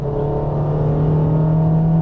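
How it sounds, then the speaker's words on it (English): A Honda HR-V engine revs high after a downshift, a loud, steady near whine with a strong low hum sustained through the whole moment. "Honda goes into high revs."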